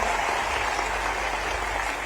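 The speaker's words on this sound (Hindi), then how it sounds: "जरा तालियों की गड़गड़ाहट से उनका सम्मान करिए।" An audience claps continuously at a government capacity-building workshop in Bhopal, a dense and even wash of applause heard at moderate distance, with no speech.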